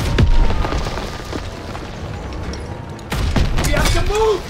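Heavy tank cannon shots and impact booms in a realistic WWII tank battle game set in 1944, a loud blast at the start and another burst later, with shouted crew voices over a rumbling background.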